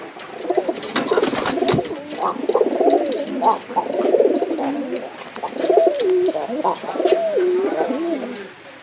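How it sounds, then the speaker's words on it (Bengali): Caged pigeons coo continuously up close, with rolling, throaty calls overlapping in waves and a few wing flutters early on. "আমি আপনাদের কবুতরগুলো দেখাচ্ছি, দেখেন"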